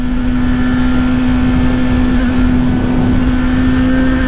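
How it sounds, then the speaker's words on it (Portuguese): A Honda Hornet motorcycle carrying a passenger accelerates on the road, its engine giving a loud, steady drone with a strong hum that holds level throughout, and no voices are heard. "Moto com garupa acelera"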